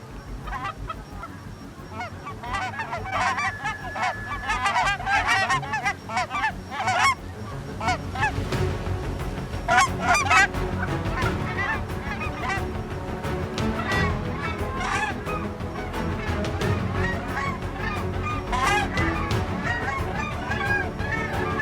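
A flock of geese honks repeatedly in a field during a hunt, the calls overlapping in bursts near and far, with occasional quiet voices beneath.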